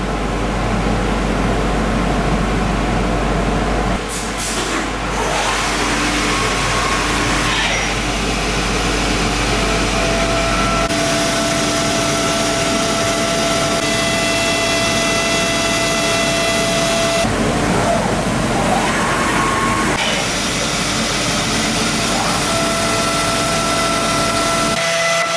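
A power tool cuts through acrylic sheet for sailboat windows, making a loud, steady machine whine and rumble that runs continuously with slight shifts in pitch and pressure as the cut deepens.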